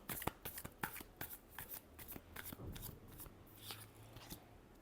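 Tarot cards shuffled by hand, a steady run of quick riffling and slapping strokes, close and fairly quiet.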